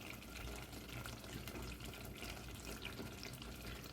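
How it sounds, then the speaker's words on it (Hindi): A glass of water poured into mutton in a pot before pressure cooking for a Hyderabadi mutton khorma, a steady splashing, running pour heard close and fairly soft throughout. "अब हम इसमें 1 गिलास पानी डालेंगे और इसको प्रेशर कुक करेंगे क्योंकि ये मटन है."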